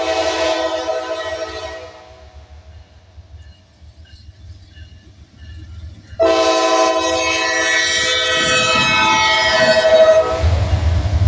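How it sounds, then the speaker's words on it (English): CSX freight train G108 with a pair of NS locomotives and a BNSF Gevo rolls past, its horn blaring loudly in two long blasts separated by a quieter stretch of rumbling railcars and wheel noise. "I caught CSX G108 heading west with a pair of NS units and a BNSF Gevo."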